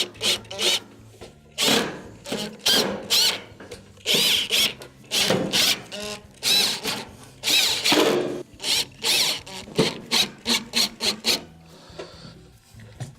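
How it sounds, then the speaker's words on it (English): A power drill driving screws back into the perimeter of a Whirlpool electric stove during repair, heard as a series of short whirring bursts of varying length, close and clear, with no talk. "reinstall the screws you took off from the perimeter"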